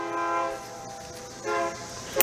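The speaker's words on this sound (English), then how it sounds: "There's that train. It comes by regularly." A train rolls past with its horn sounding in two loud, sustained blasts, heard from a workshop beside the line, with a steady rumble of rail traffic underneath.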